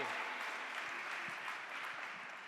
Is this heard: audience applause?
yes